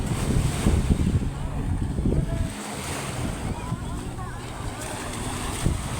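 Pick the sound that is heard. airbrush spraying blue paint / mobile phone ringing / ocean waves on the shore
ocean waves on the shore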